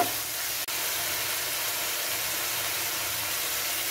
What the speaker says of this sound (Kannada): ಇದರಲ್ಲಿ ಹಾಕಿ ಒಂದು ಒಂದು ನಿಮಿಷ ಇದನ್ನು ಫ್ರೈ ಮಾಡುವ